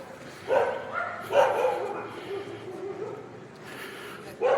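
Several dogs bark in short, loud bursts at irregular intervals, fairly close, with background noise and some talk between barks, near the Darbar Sahib at about 2:30 a.m.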